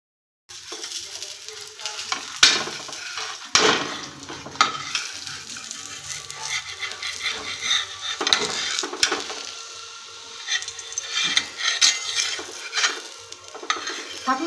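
Dhapate flatbread roasts on a hot pan with a soft continuous sizzle, broken by scraping and tapping as it is turned and pressed, close and moderately loud.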